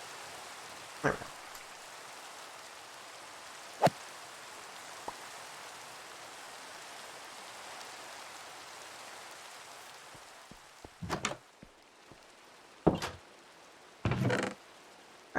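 Rain falling in Minecraft, a soft continuous hiss of drops that runs throughout, broken by several short thumps and clicks like a door or footsteps, louder toward the end, with no talking.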